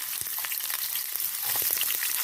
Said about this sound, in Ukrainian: Тут у нас вже смажиться. От, Кидаємо сюди цибульку.